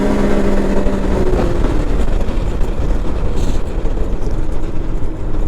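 A Can-Am Maverick X3 DS RR side-by-side driving through winter terrain, its engine and drivetrain making a loud, steady, close-up roar that holds constant from start to finish with no voices.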